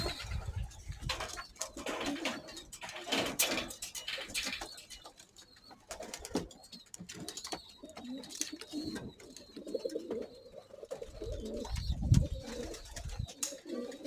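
Homing pigeons at their loft coo repeatedly with soft wing flaps and fluttering as the flock heads out for a morning flight, steady and close outdoors over about fourteen seconds.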